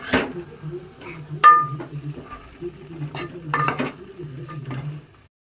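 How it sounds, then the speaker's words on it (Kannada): Tomato being stirred in a pan for a home-style peas curry, with repeated scraping and clinking of a utensil against the pan over a faint low sizzle, near and moderately loud, no talking. "ಒಂದು ಟೊಮೊಟೊನ ಹಾಕೋತಾ ಇದ್ದೀವಿ ಹಾಕೊಂಡು ಇದು ಕೂಡ ಸ್ವಲ್ಪ ಮೆತ್ತಗಾಗೋವರೆಗೂ ಫ್ರೈ ಮಾಡ್ಕೊಳ್ಳಿ"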